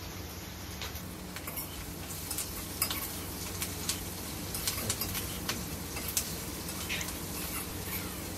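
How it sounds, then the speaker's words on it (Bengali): Capsicum and onion being stirred and fried in a pan, a steady sizzle with scattered light scraping and ticking clicks from the stirring, continuous and close. "ক্যাপসিকাম দেওয়ার পরে হালকা নাড়াচাড়া করে নিয়েছিলাম।"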